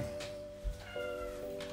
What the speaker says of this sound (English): Why are you meowing in the background?